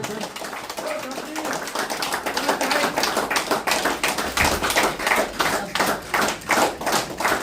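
Steady rhythmic clapping from an audience, strong distinct claps in a regular beat that grows more pronounced, with a voice speaking over parts of it.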